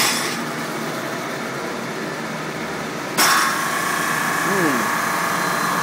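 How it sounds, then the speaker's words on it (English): A rooftop air compressor serving a building's pneumatic controls kicks on with a sudden jolt and settles into a steady mechanical drone over constant background machinery noise. "Compressor just started up."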